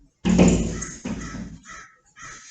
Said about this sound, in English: The crows are at the window again.